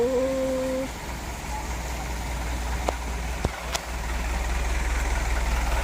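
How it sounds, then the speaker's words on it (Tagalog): A turbo boat engine idles on a Bangkok canal near Wat Arun. Its loud, steady low rumble carries on throughout, and a few brief knocks and a short tonal sound rise above it. "Gaano kalaki ang makina?"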